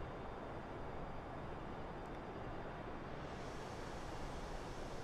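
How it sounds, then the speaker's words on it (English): An airplane engine in Microsoft Flight Simulator 2020 played at a turned-down level, a faint, steady droning hum that holds evenly throughout with no voices. "because I also turned the engine sounds down a little bit so it wouldn't be too overbearing"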